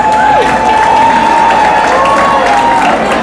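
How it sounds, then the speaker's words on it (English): An audience at an awards dinner applauds and cheers for dancers in a loud, dense, continuous wash of clapping, with a sustained tonal note running over it. "So give them a round of applause."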